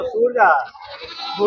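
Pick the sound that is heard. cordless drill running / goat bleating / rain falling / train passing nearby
goat bleating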